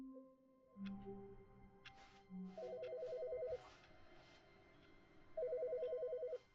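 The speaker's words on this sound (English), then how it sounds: "That's a phone." A telephone rings in the video game The Stanley Parable, two electronic ringtone bursts with short gaps, heard close over quiet game ambience with some soft thumps.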